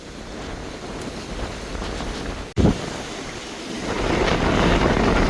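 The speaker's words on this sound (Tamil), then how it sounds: "எப்படி அடிக்கல வரும் காற்று, அகோரம் அடிக்குது." Fierce storm wind off the sea in Jaffna, with heavy waves: a dense, continuous roar of gusts and surf, a brief sharp thump midway, then the rushing noise swells louder toward the end.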